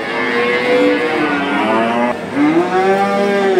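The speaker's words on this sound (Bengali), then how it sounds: "ফ্রিজিয়ান গরুটা ছাই মাটি কালারের।" A grey Friesian cow at a rural cattle market moos loudly and close by in two long, drawn-out lowing calls with a brief break between them, no talk over it.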